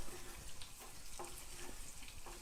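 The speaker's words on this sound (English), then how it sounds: "the frying of the ginger" Ginger sizzles and fries in a pan, a steady crackling hiss with faint stirring scrapes and no talk.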